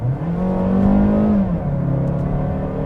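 A Mazda CX-5 engine drones steadily up close as the SUV cruises, the tone rising slightly and holding before easing off, continuous with no voices over it.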